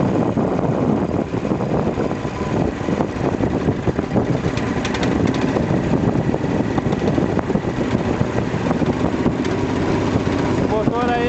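A four-stroke outboard boat motor runs steadily and loudly during a boat ride at Praia Vermelha in Imaruí, its drone mixed with wind buffeting the microphone and rushing water.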